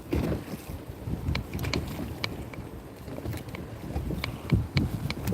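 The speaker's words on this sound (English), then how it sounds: "The wind is beating me up." Wind blows across open water on a lake during a bass-fishing outing from a boat, buffeting the microphone with steady low rumble, broken by scattered small clicks and knocks.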